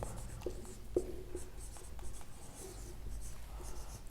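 Chalk writing on a classroom blackboard, a faint close scratching and tapping with short strokes and pauses, no voices.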